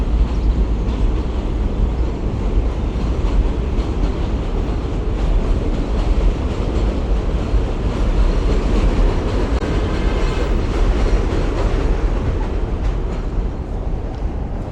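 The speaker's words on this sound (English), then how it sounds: "That's a train that used to run on the L on 86th Street" A New York subway train on the West End line in Bensonhurst, Brooklyn, rumbling steadily along an elevated track nearby, a loud continuous roar with faint rhythmic wheel clatter and no voices.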